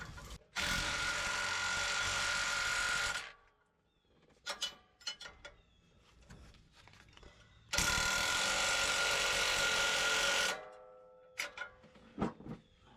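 A ratchet tightens bolts on a Rough Country 6-inch lift kit on a 2020 RAM 1500 in a driveway, with two long, fast, loud clicking runs separated by shorter bursts of ratchet clicks and handling.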